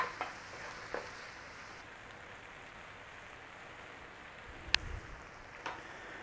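Apples and sugar cooking in a pan for apple pie filling, a soft steady sizzle and bubbling with occasional faint clinks of a utensil stirring, no talking.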